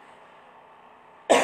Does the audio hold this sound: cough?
yes